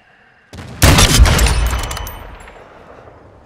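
Loud, close gunfire from a Call of Duty: Modern Warfare II match: a sharp crack followed by a dense burst of rapid shots that rings out and decays over a couple of seconds, with no talking.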